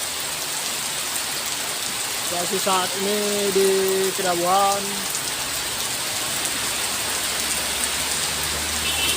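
Steady heavy rain pours down in a dense, hissing wash on a slippery road where trucks struggle, with someone speaking briefly partway through.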